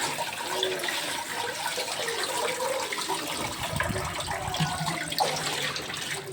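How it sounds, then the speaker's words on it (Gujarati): Water splashes and pours while fenugreek leaves are washed in a black basket, a steady rushing wash with faint sloshing that stays even throughout, with no speech. "તો હવે આ કાળાવાળો ટોપલો મેં લીધો છે, તે ટોપલામાં આપણે આ રીતે ધોઈ નાખશું મેથી બધી।"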